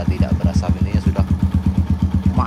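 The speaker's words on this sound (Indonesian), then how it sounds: "suara mesinnya sudah halus" A Kawasaki KLX motorcycle engine idles smoothly up close, its steady, evenly spaced firing pulses thumping loudly and continuously.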